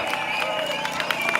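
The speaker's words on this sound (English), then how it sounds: "Give them a big cheer." A crowd at an outdoor freedom rally in Dublin cheers and claps steadily, a broad continuous wash of applause and voices at moderate distance, with shouts mixed in throughout.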